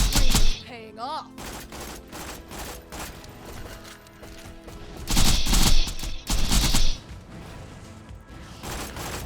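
Video game gunfire from shoulder turrets in Borderlands, with bursts of rapid shots and heavy blasts rising and falling amid game effects, with some talk.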